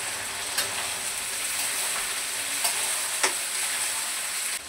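Onions, capsicum and garlic sizzle steadily in hot oil, a dense continuous frying hiss with a few brief clinks of stirring, close and fairly loud with no voices.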